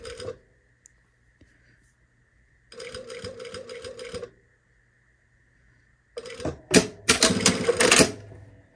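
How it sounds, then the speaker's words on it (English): A sewing machine runs along a chalk line on a sweater in short bursts of rapid mechanical chatter, separated by pauses with a faint hum, ending in a louder rattling stretch. "And then we're going to sew right along that chalk line."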